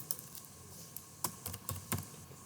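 Keys tapped on a computer keyboard while entering a new folder name, a few quiet scattered clicks followed by a short faster burst, close up with no talking.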